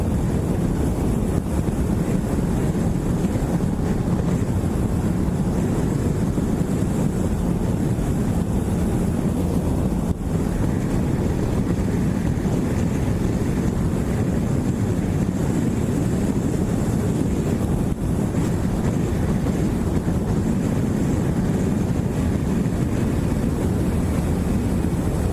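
Steady, loud wind roars across the microphone while riding a 2013 Kawasaki Ninja 650 motorcycle, a continuous low buffeting rush with engine drone underneath and no talking.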